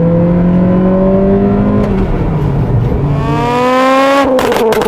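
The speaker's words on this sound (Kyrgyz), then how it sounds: "газды басканда кыймылдаткычты 7-8 миң оборотторго чейин иштетип" A Honda Accord Euro R engine revs loudly and high, climbing in pitch, dipping briefly, then climbing again, close and alone.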